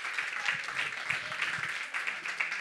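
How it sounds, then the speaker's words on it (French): Audience applause on a French web show, a soft, fairly distant wash of clapping with a thin, bright texture, continuous and low in level. "On peut l'applaudir très fort."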